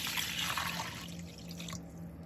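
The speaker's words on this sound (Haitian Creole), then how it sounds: "n'a pris une chaudière, n'a mettez de l'eau là-dedans" Water pours and splashes into a cooking pot, a bright gurgling rush that thins out toward a softer trickle near the end, close and fairly quiet with a low steady hum underneath.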